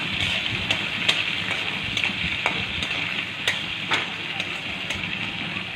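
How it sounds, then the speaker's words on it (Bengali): Chopped garlic frying in oil in a pan for a macaroni pasta dish, a steady bright sizzle with occasional sharp crackles and stirring clicks, fairly close and continuous. "আমি এখন দিয়ে দিচ্ছি রসুন কুচি, সামান্য একটু নেড়ে নিব।"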